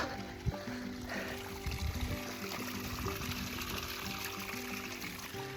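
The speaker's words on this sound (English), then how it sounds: "where the water is just kind of trickling like that" Water trickles quietly from a small puddle-like water source along the Appalachian Trail, a faint continuous dribble with a soft bump near the start and no talk.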